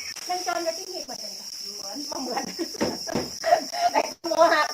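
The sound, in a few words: crickets chirping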